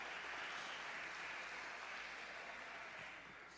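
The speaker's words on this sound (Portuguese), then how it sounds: "Agora aplaudo que eu quero beber água." A church congregation applauding during a sermon, a steady wash of many hands clapping that holds evenly for several seconds before easing slightly, no speech over it.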